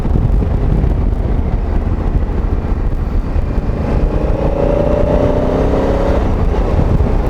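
Wind roaring against the microphone while riding a Honda Africa Twin motorcycle fitted with Motoz Tractionator DualVenture tires, a constant loud buffeting rumble mixed with engine and road noise, with no talking.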